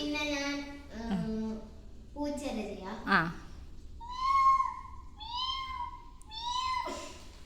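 A voice mimics a kitten's meow, giving a string of short, high, rising mews one after another, close and clear with brief pauses between them.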